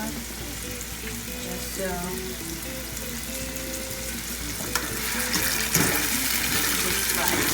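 Plantains and eggs fry in a hot pan with a steady, loud sizzle and crackle throughout, a few clinks near the end, and a brief spoken remark.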